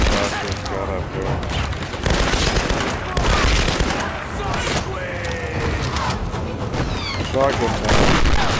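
Gunfire in the Tomb Raider game: sustained bursts of shots and impacts fill the scene, loud and dense, with mechanical clatter and a voice speaking over the action.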